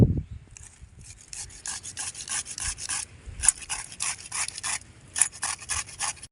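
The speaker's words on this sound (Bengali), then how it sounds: "আমি পেঁপেটা ঘষে নেবো এবার" Ripe papaya grated outdoors at a village picnic, quick rhythmic rasping strokes close by, steady and repetitive with brief pauses between bursts.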